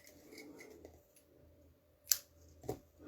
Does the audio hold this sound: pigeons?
no